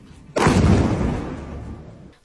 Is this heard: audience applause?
no